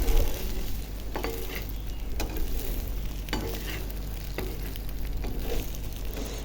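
Egg paratha fries in a pan with a constant sizzle. Repeated scraping and stirring strokes from a utensil on the pan are close and clear, with no talk.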